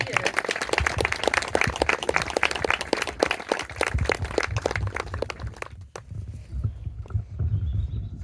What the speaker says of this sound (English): I think that deserves a round of applause, don't you?